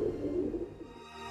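Pigeons cooing in Paris, a short low soft coo that is close and fades out within about a second.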